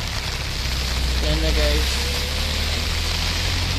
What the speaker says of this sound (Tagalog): Saging ulan karon pero okay ni nga unit.